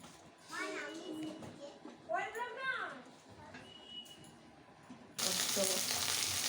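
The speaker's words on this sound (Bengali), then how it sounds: "ও পটলের তরকারি চাপিয়ে দিয়েছে" Pointed gourd curry hits a hot pan with a sudden loud, hissing sizzle near the end, after children's voices chatter over a quiet kitchen.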